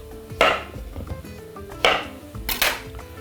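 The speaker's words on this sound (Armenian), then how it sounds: "Դա ցուկինին է։ Կտրում ենք ծայրերից," A kitchen knife cutting through the ends of a zucchini on a board, three crisp, distinct chops spaced about a second apart, close and clear with no voice over them.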